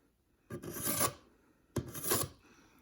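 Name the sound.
dulling the edge of an Insingo knife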